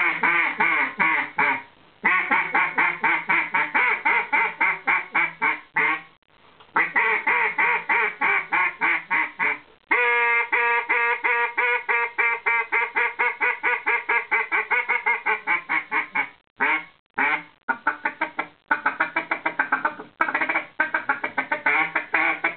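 An acrylic double-reed Zink duck call blown in long runs of nasal, raspy quacks, loud and close, with brief pauses between series and no talking.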